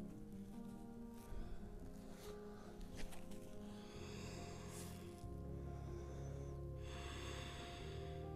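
Deep, slow breathing during a yoga backbend session: a few soft inhales and exhales, quiet and close, over steady background music with no talking.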